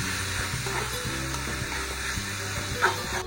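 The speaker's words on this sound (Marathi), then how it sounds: "त्यामध्ये आपण 2 बारीक चिरलेले टोमॅटो मऊ होईपर्यंत आणि ते सुटेपर्यंत मस्त फ्राय करून घ्यायचे" Sliced onions and finely chopped tomatoes sizzle and fry in oil in a pan, a steady close crackle with a few stirring scrapes and no talk.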